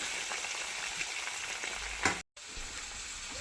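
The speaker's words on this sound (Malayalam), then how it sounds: "കരുവേപ്പിലൊന്ന് ഒന്ന് ഇങ്ങനെ മൂത്ത് വരുന്ന സമയത്ത് ഇതിലേക്ക് ഉള്ളി" Small onions fry in hot oil with curry leaves for a chicken curry, making a loud, dense, continuous sizzle with stirring. A brief sharp clatter is followed by a split-second dropout to silence.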